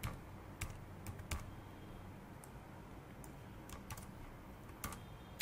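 Close-up clatter of Python code being typed on a computer keyboard, coming in uneven bursts of sharp key clicks with short pauses in between and no voices.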